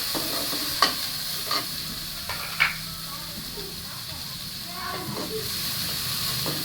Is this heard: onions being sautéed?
yes